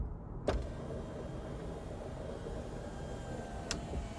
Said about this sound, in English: you also have your power sunroof that tilts and slides